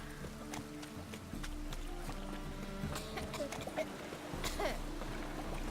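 A horse gallops in the video game The Witcher 3 on a rainy stretch, its quick rhythmic hoofbeats steady and fairly quiet beneath a soft tonal backdrop.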